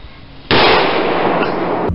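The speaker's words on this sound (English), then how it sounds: "Fireworks seem to be very effective." A firework burst goes off outdoors during an attempt to remove a hornet nest, a sudden loud crackling blast after a quiet moment that rolls on as a dense, sustained crackle.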